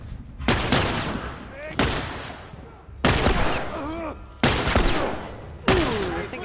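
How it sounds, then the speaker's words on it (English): Five loud gunshot blasts in a post-apocalyptic survival video game, each a sharp broadband crack with a decaying tail, fired at irregular intervals about a second apart, with faint creature cries between them. "shot him in the crotch"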